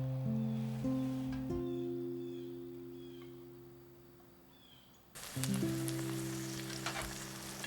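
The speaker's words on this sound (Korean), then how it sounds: "당근과 표고버섯을 볶아주다가" Carrots and shiitake mushrooms stir-fry in perilla oil in a pot, a crackling sizzle that fades down, then surges back loudly as the pan is stirred, over a steady low hum.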